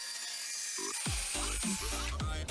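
Saw cutting through wood for ammo box drawer fronts sized to fit cabinets, heard as several short, close strokes with gritty rasping bursts over a steady background hiss.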